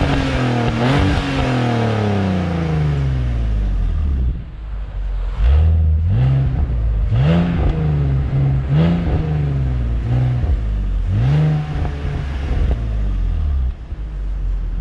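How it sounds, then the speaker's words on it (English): A BMW Z4 E85 roadster's exhaust drones and rumbles while driving, with repeated rising revs through the gears as it accelerates, loud and close throughout. "now we'll be looking at the exhaust drive."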